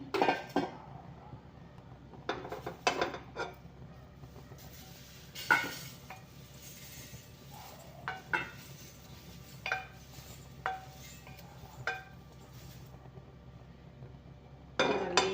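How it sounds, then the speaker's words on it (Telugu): Fried powder of neem flowers and drumstick leaves is scooped from a pan into a bowl, heard as scattered scraping and clinking strokes of a spoon against metal, fairly close and moderately quiet, with no talking. "ఇప్పుడు ఇది మన బౌల్లోకి తీసేసుకుందాము."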